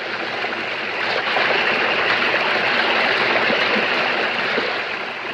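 A cartoon waterfall gives a loud, steady roar of rushing water, a broad continuous wash of noise that swells slightly after the first second and holds without breaks, with no voices over it.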